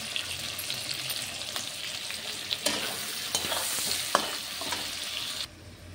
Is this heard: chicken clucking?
no